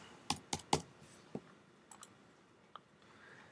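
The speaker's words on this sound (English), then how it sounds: "I'm going to type in my Andy Warhol." Someone types on a computer keyboard, with a few sharp key clicks close together followed by scattered single taps, close and fairly quiet in a still room.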